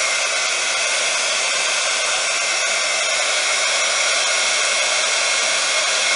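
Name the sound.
heat gun melting embossing powder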